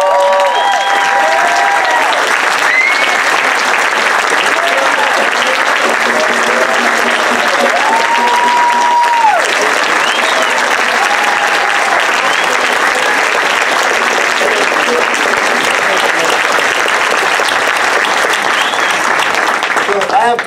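Sustained applause from a large audience at a Puerto Rican diaspora summit's wrap-up plenary, a steady loud wash of clapping lasting the whole stretch, with brief voices audible under it.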